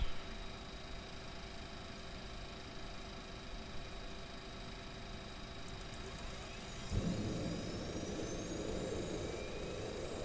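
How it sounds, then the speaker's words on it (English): An aircraft auxiliary power unit spins up, a faint steady whine and hum that shifts into a broader, louder rushing roar about two thirds of the way through, with a rising tone over the noise. "the APU firing up"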